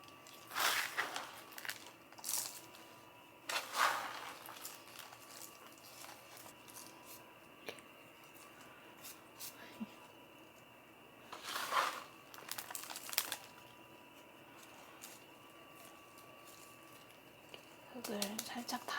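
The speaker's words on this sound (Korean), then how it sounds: "흙을 살짝 다지듯이 눌러서 넣었고요" Soil is pressed into a small flower pot around tulip bulbs, giving soft crumbly crunches and rustles in several short bursts, faint and close, with someone talking between them.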